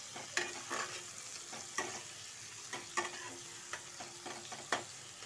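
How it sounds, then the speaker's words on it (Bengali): Chopped onion with a pinch of salt frying in a pan, with a constant soft sizzle broken by repeated scraping strokes of a spatula at an irregular pace, close up and with no talking. "পেঁয়াজ কুচিটা দিয়ে দেখো বারে বারে একটু নাড়াচাড়া করে নেব।"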